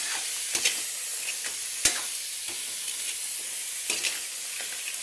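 Crab and ginger frying in a pan, a steady loud sizzle with occasional stirring clatters of a utensil against the pan, no talking.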